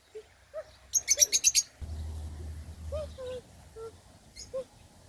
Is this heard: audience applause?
no